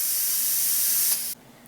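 Single action airbrush spraying paint, a steady close hiss of air and paint mist that runs continuously, then cuts off abruptly near the end.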